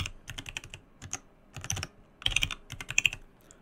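A password is typed on a computer keyboard while setting up a user in Windows Server 2022 Active Directory: clustered bursts of sharp, close key taps with short pauses between groups, and no voices.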